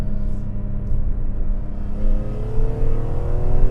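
A BMW E46 M3 inline-six engine pulls hard in third gear, a loud, steady rising drone with climbing harmonics that builds continuously throughout, heard from inside the car.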